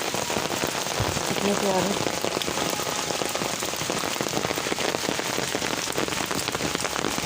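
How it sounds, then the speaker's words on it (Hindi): Heavy rain pours steadily onto flowers, leaves and other surfaces in a garden, a dense continuous hiss at close range throughout, with someone speaking softly over it for a moment. "बारिश बहुत तेज़ हो रही है।"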